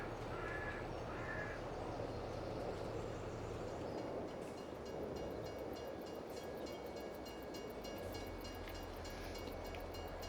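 A train rumbles past with a steady rolling drone in Farming Simulator 22, heard while a vehicle hauling a silage trailer drives alongside, with faint bird caws over the top.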